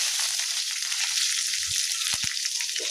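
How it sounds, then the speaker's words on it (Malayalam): Urad dal, mustard seeds, dried chili and curry leaves sizzle in hot oil, making a steady bright frying hiss with a few soft pops and clicks, close and alone. "കുറച്ച് എണ്ണ ഒഴിക്കുക, കുറച്ച് ഉഴുന്ന് പരിപ്പ്, കുറച്ച് കടുക്, കുറച്ച് വറ്റൽമുളക്, കുറച്ച് കറിവേപ്പില"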